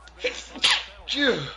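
A sneeze bursts out during a football broadcast, one sharp loud burst in the middle, set between play-by-play commentary about a penalty flag on the field.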